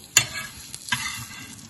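Sweet corn kernels tossed with chili powder on a hot tawa, giving a sharp scraping stir followed by a soft, steady sizzle close by, with another brief stirring scrape partway through and no talking.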